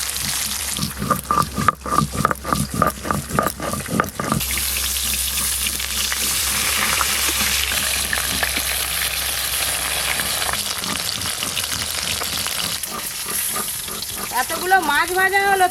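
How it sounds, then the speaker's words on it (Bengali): Katla fish fry in hot oil in a home kitchen, a loud continuous sizzle that swells after a stretch of clattering and stirring, with a voice speaking briefly in the middle. "এই মাছগুলো একই রকম করে ভেজে নেব।"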